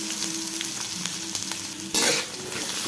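Green chillies and onion fry in oil in a pan, a continuous close sizzle with light stirring taps, flaring into a brief louder hiss near the end before settling again.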